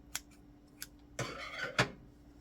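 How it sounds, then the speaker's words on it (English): Scissors snip through yarn after loom knitting, giving a few quiet, sharp cuts with a fuller closing snip near the end, heard close up with no talk. "We're going to wrap the loom once, snip the yarn"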